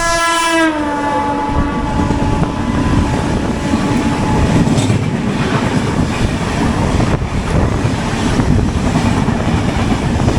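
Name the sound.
opposing Mangala Lakshadweep Express train passing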